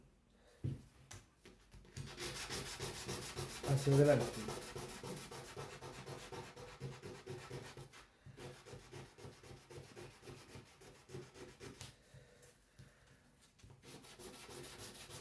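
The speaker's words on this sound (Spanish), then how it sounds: "Y ahora empezamos a limar. Disculpen, a lijar." Rhythmic scratchy rubbing of sandpaper on wood by hand, repeated back-and-forth strokes close by, with a few brief spoken words in Spanish.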